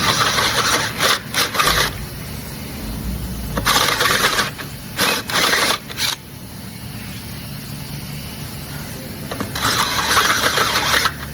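A 1/2 inch drill grinds into a broken bolt in a Mercedes control arm in several bursts, loud and close, starting and stopping with short pauses and one longer quiet gap.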